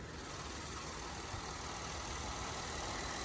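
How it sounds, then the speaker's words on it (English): A Chevy Traverse's 3.6 liter V6 idles steadily, a smooth, even low hum that holds constant with no revving and no voices. "Motor runs smooth."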